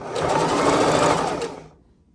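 A sewing machine stitches the hem of an off-the-shoulder top in one steady, close, whirring run of about a second and a half, then slows and stops.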